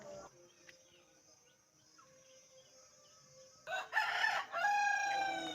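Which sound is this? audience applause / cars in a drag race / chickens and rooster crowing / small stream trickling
chickens and rooster crowing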